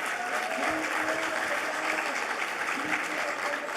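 A crowd claps steadily throughout at an MLK Day 2023 celebration at Colorado State University, with dense, sustained applause that fills the space and never breaks.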